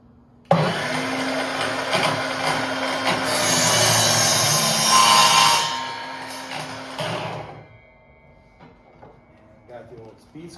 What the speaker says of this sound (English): show you how it does a 45 miter cut